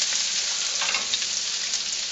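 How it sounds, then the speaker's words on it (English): Green peppers and onions sizzling in butter in a hot wok, a steady bright hiss with faint crackles and the occasional stir, close and unbroken, with no talking. "Hear the sizzle of the wok, one of my favorite sounds."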